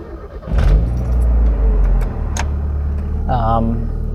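A Mazda Miata MX-5 engine starts up and then idles close by with a low, steady rumble, along with brief clicks and a short voice near the end.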